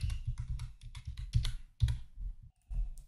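Quick, irregular bursts of close, quiet key clicks from typing on a computer keyboard while entering text in an Excel spreadsheet, with short pauses between keystrokes.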